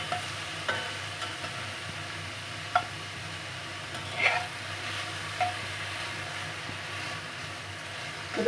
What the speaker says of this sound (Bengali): আমরা মাংসটা রান্না করে নিচ্ছি আস্তে আঁচে রান্না করবো